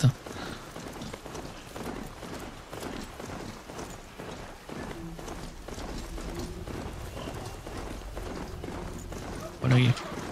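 Galloping hooves of a mechanical horse mount in Horizon Zero Dawn, a steady fast clip-clop rhythm running throughout at moderate loudness, mixed with game ambience and bits of voice.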